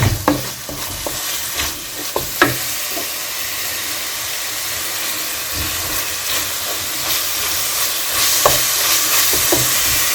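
Onions fry in a pan for tinda sabzi, a spiced round-gourd curry, giving a steady close sizzle and hiss broken by the clatter and scrape of stirring.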